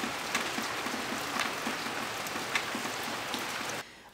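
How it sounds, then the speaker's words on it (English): Steady rain falls outside, a dense even patter of drops on surfaces with occasional louder splats, continuous and fairly close, heard alone until it cuts off abruptly near the end. "But we need the rain, so I'm glad it's raining."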